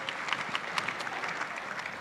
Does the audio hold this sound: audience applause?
yes